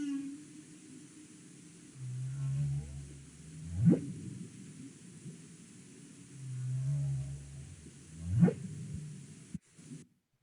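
Male humpback whale song units repeating in pairs: low moaning tones, each followed by a rising sweep, recurring twice over noisy ocean background, moderately loud and alone.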